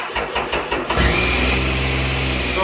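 A 2001 Triumph Sprint 955 motorcycle engine, started cold in a garage, cranks with a few rhythmic chugs, then catches and settles into a steady, loud idle close by.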